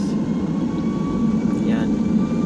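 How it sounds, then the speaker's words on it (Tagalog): A passenger airplane's engines hum loud and steady on a runway at Manila International Airport as it readies for take-off, a continuous low roar with a faint whine above it. "Nagre-ready na. Ang ating eroplano. Ayan na, narinig nyo na"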